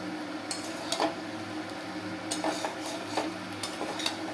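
Kashmiri red chilli powder and spices frying in a pan, with soft stirring scrapes and light clinks of a utensil against the pan over a faint steady sizzle, close and quiet, no talking.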